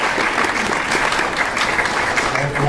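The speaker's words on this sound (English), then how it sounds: "give a good round of applause for your panelists" An audience applauds panelists after a discussion, giving steady, dense clapping that fills the room from start to finish at a strong, even level.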